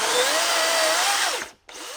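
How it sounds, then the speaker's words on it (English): DeWalt DCM575N 54/60V cordless chainsaw with a 400 mm guide bar cutting through a tree trunk, a loud, steady high whine that winds down, drops briefly to near silence, then revs again. "it's no problem for this chainsaw, especially with its 400 millimeter long guide bar."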